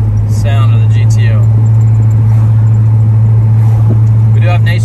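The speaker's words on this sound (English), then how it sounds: "just that nice butter smooth sound of the GTO" A 1969 Pontiac GTO convertible drives along with a loud, steady, low engine drone and road noise, while faint clicks and a voice come through here and there.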